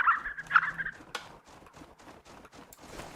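Harlequin ducks in theHunter: Call of the Wild, heard through a hunter's shotgun scene: a loud cluster of high, squeaky calls fills the first second, then fades into faint, scattered clicks and rustling ambience.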